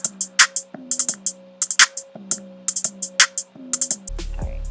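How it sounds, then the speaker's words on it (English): Sped-up trap beat loop with crisp hi-hat and snare hits over a steady synth note and pulsing low bass, looping in a quick regular rhythm, close and loud with no talking. "So I found a little quick little like trap kind of beat that I liked"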